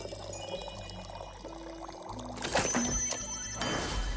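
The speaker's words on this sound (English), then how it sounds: "I gotta get used to pouring two pours for certain ones" A drink pours in the tavern-management video game Tavern Talk, a steady liquid trickle with faint tinkling, swelling louder partway through over soft game background sounds.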